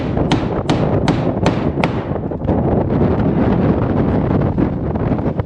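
Wind gusts buffet the microphone outdoors on a dairy farm in cold weather, a loud, close, rumbling roar broken by a few sharp thumps early on.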